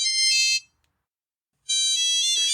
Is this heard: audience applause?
no